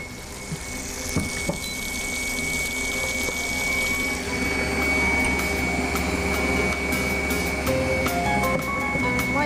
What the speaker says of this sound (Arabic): مية شوية شوية